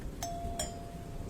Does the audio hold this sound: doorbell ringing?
yes